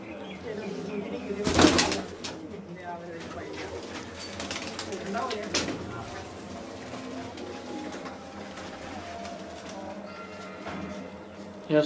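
Pigeons coo softly on a rooftop in Gujranwala, low burbling calls near and far, with a burst of flapping wings early on and faint talk in the background.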